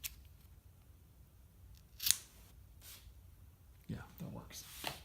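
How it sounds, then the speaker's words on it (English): Scissors snip away excess material during a bullwhip installation, a few sharp, close cuts spaced over several seconds against a quiet room background, with some speech. "scissors. Cut this nonsense off."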